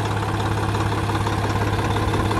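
A tractor engine idles close by in a steady, throbbing drone with a regular knocking pulse, continuous and loud with no voices over it.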